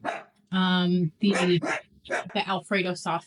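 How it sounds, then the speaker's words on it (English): Pet dogs bark repeatedly in a home kitchen, sharp close yaps breaking out in bursts while a person speaks over them. "Sorry about my dogs."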